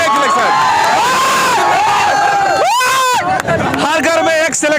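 A crowd of thousands of students cheering and shouting at a New Year 2023 gathering, loud and dense, with swelling chants and voices rising over the din throughout.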